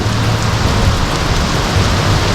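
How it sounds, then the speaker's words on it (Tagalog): Heavy rain pours down in a dense, steady roar, drumming hard on surfaces with a low rumble underneath. "Oh, ang lakas ng ulan."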